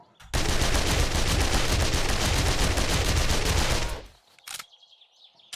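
An SMG fires full-auto in the video game 7 Days to Die Alpha 19, a dense, loud burst lasting nearly four seconds, then a brief pause and a couple of short mechanical clicks.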